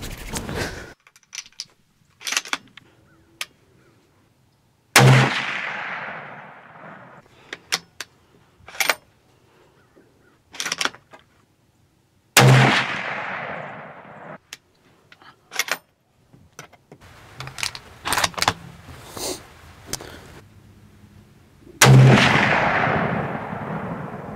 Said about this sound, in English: That's my budget 308, guys. Let's shoot this thing.